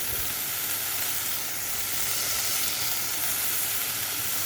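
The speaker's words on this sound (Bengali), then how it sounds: "এবার এটা ভাজা হচ্ছে" Food frying in a pan gives off a strong, steady, hissing sizzle close up, even and unbroken throughout with no voices.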